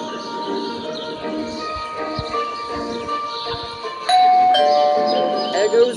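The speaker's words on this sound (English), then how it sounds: "that stupid bell again." Doorbell chiming in the Scary Teacher video game, a bright ringing tone that starts about two thirds of the way in and sits over busy game music and ambient sounds.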